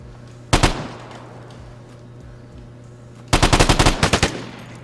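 ES-16 rifle firing in the Vigor video game: one short burst of two or three sharp, loud shots, a pause of nearly three seconds, then a rapid burst of about eight shots in a quick, even rhythm.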